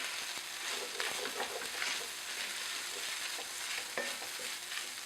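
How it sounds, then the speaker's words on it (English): Quinoa stir-frying and crisping in a hot pan, with a steady dense sizzle and occasional stirring scrapes and clicks throughout, close and fairly quiet, with no talk. "that's when I know that it's actually frying and getting all crispy"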